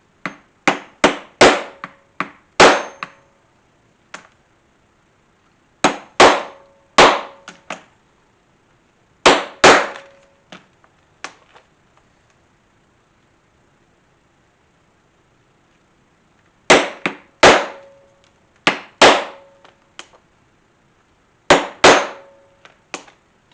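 Sharp metallic hammer strikes drive a 1/8 inch punch through a leather dog collar, falling in quick clusters of four or five loud, close blows separated by pauses, with no one talking.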